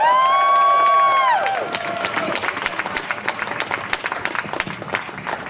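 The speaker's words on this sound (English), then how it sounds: "Can I get a round of applause, please?" A school group's arrival at an outdoor climate rally draws a lively crowd, with cheering, whoops and scattered clapping rising after a brief tone at the start and continuing at a fairly loud, busy level.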